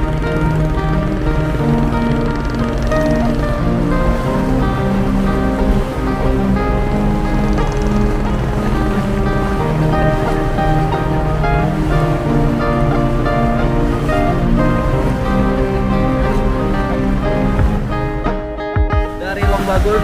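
A speedboat races along the Mahakam River, its engine and rushing water forming a loud, unbroken roar heard close up, with only a brief dip near the end.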